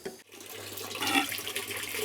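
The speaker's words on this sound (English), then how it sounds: "We've got some water coming through again." Water runs steadily through a hose in an organic hydroponics system, a continuous gurgling wash of flow that swells slightly partway through, close and with no talk over it.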